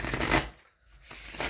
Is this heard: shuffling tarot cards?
yes